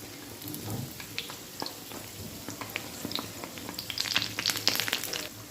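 Sweet appam for Ganesh Chathurthi fries in hot oil with a steady crackling sizzle and scattered pops that grow busier toward the end, close by, with no talking.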